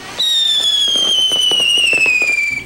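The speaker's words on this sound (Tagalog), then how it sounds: "Masama kasi sa tenga ang napakalakas na tunog ng mga paputok." New Year fireworks: a loud, close whistling rocket streaks with a long falling whine while a rapid string of firecracker pops and crackles bursts beneath it.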